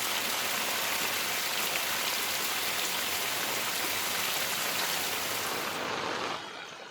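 Heavy downpour in Arvalli district under a yellow alert, a steady, dense roar of rain hitting surfaces that holds evenly for several seconds before cutting off abruptly near the end.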